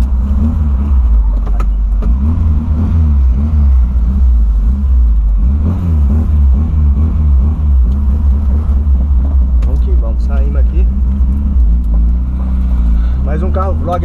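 A boxy older Volkswagen Voyage pulling away, its engine rumbling loud and steady close by with slight revving, while someone talks over it.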